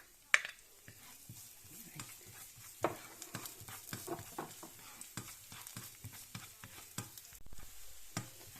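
Garlic frying in a pan for a sausage casserole gives a soft, steady sizzle broken by sharp clicks and scrapes of stirring, fairly quiet and close, with no voices.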